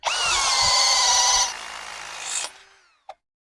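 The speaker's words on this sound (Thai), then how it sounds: "ทดสอบความเร็วในการเจาะ ไม้นะ" A brushless drill bores into wood with a loud, high motor whine that holds for about a second and a half, winds down to a stop, and ends with a short sharp click.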